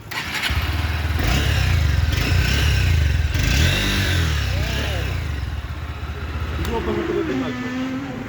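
A Honda Hornet 2.0 motorcycle engine idles and revs loudly at close range in a steady, throbbing roar that eases off toward the end, with voices heard alongside it.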